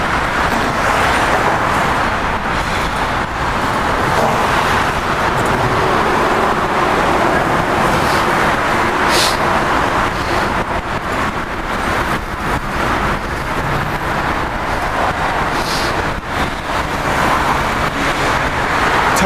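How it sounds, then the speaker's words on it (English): Road traffic roars by along a bridge near Kobe harbor in Japan, a loud, constant wash of passing cars and larger vehicles heard from a bicycle, with no clear breaks. "There's lots of traffic this time of day."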